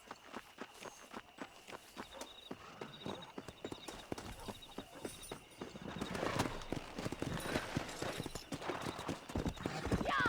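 Horse hooves clip-clopping as a rider travels in the western game Red Dead Redemption, steady rhythmic hoofbeats with an occasional whinny, growing louder and busier toward the end.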